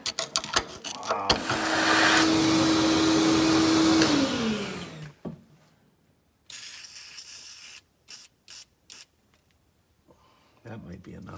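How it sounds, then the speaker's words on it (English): Vacuum cleaner running on the front suspension of a 1999 Dodge Durango during repair, a loud steady whooshing roar for a few seconds that cuts off, followed by short bursts and quieter gaps with people talking. "Hit that with a vacuum one more time."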